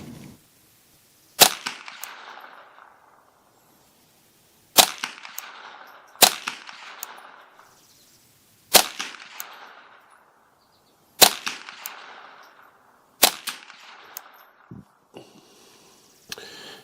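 A custom Ruger 10/22 fires Winchester Super X 40-grain copper-plated round-nose .22 LR rounds, six sharp cracks spaced a few seconds apart, each with a short decaying echo and near silence between shots.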